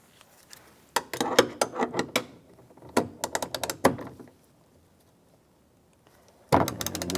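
A T40 socket works a screw in the door handle of a 2002-2008 Dodge Ram 1500 door, giving bursts of sharp ratcheting clicks in several quick runs, separated by pauses, with a louder clatter of handling at the end.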